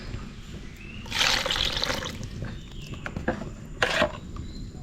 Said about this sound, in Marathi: असं मिक्सरचं भांडं वगैरे धुवून घ्यायचं